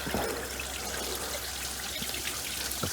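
Coolant runs out of the large 19 mm engine block drain on a Mercedes W124 during a head gasket job, a continuous close trickle and splash with a few louder spatters.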